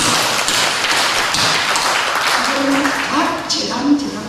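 A church congregation claps together during a worship service, a dense wash of applause throughout with a voice speaking over it toward the end.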